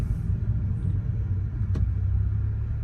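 Interior of a VW GTI fitted with a JB4 tune and new downpipe under acceleration, a loud continuous low engine rumble and road drone that holds steady throughout.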